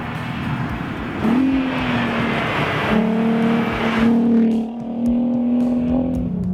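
A Volkswagen Golf R32 engine revs up through several gears, pitch climbing and dropping with each quick shift, loud and close.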